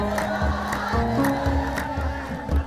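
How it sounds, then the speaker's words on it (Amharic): At an Ethiopian Orthodox church consecration, the congregation ululates in loud, sustained, high-pitched trills. Many voices overlap in a dense crowd sound with rhythmic pulses. "እልልታ እልል እያላችሁ እግዚአብሔርን አመስግኑ"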